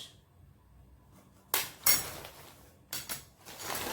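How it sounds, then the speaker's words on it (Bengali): Heavy metal plate and spoon handled indoors, several sharp clanks and clinks in two clusters, close and fairly loud against a quiet background. "থালাটা বেশ ভারী ওয়েট আছে থালাটার আর এই যে তার সঙ্গে একটা চামচ"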